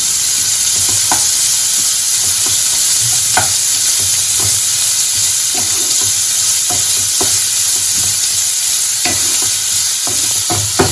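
Chopped green chillies frying in a pan for egg bhurji, a loud steady hiss of hot oil with soft stirring scrapes and occasional small pops, close up and without voices.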